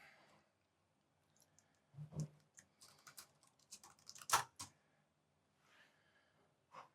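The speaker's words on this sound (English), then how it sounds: "And then we just type out our question." Soft keyboard typing at a computer, scattered quiet keystrokes and clicks in short irregular runs with pauses, close and faint in a quiet room.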